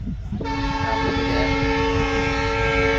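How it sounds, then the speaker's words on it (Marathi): A train horn blares suddenly at a station after a brief moment and holds a long, loud, steady tone over the rumble of rail traffic. "रेल्वे आलेली बघू शकतात"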